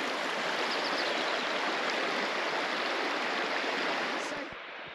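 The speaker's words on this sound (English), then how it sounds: "I'm trying to work out here how to cross over this river, which is very fast flowing and quite deep." Deep, fast-flowing river on the Colorado Trail, a loud, continuous broadband roar of rushing water close by that eases slightly at the very end.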